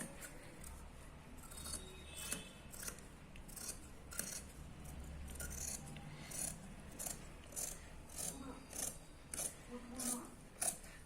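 Scissors cut through kurti fabric in a run of close, crisp snips and slicing strokes, with quick rhythmic cuts clustering toward the end against a quiet background.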